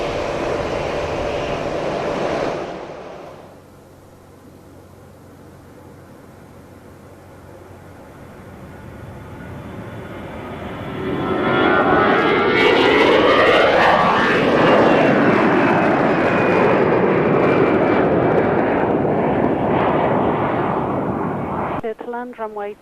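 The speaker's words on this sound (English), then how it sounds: "seeing your favourite Britannia Airways. A long time no see with that aircraft." A Britannia Airways airliner passes at an airport, its jet engine roar swelling from quiet to a loud sustained rush with a sweeping whine, distant then nearer, with someone talking over the early part.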